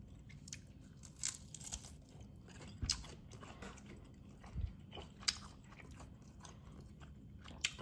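Crispy air-fried food with hot sauce being bitten and chewed close up, with repeated irregular crunches and soft mouth sounds and no talking.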